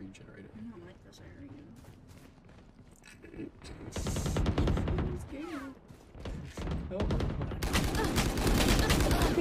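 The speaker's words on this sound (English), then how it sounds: "He shot a wall." Bursts of rapid gunfire in the tactical shooter game Valorant, quiet at first and then growing into dense, loud automatic fire, with people talking over parts of it.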